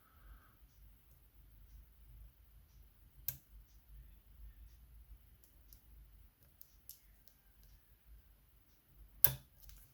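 Soft, sparse clicks from pins in a TSS euro cylinder lock being picked, mostly faint ticks in near silence, with two sharper, louder snaps standing out.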